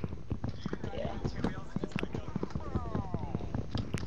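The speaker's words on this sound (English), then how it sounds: "I see lots of horsies." A horse in the Minecraft video game clip-clops in a quick, steady run of hoof taps, sounding fairly close over a busy background.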